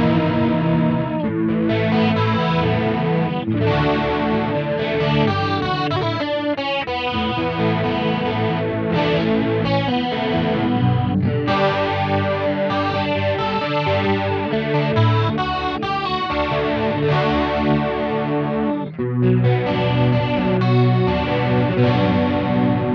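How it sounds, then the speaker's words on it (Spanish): An electric guitar plays through a chorus doubler pedal with overdrive, producing thick, shimmering, distorted chords and riffs that ring continuously and loudly, with only a brief dip near the end. "Que es básicamente un chorus doubler, ¿sí? Que está buenísimo realmente para usar con overdrive y con distorsión."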